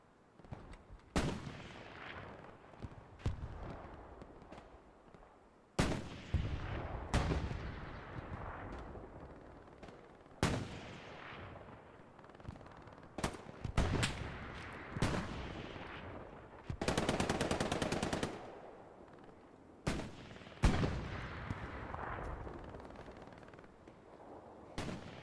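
Machine guns rattle in the WWII shooter Hell Let Loose during a competitive tournament match: loud, close bursts repeat at irregular intervals, with one long sustained stretch of fire.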